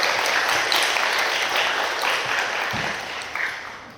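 An audience at a KOICA recruitment briefing claps for the hiring staff in sustained, fairly loud applause that eases slightly toward the end.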